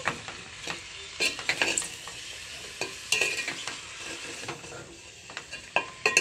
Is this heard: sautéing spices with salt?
yes